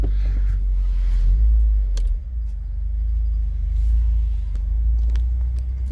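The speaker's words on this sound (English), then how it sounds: "Ooh, them new grippy grips, you can hear them." 2019 Subaru WRX rolling on a road on new grippy STI tires, a deep low rumble of tires and engine inside the car, steady with a few small knocks and swells.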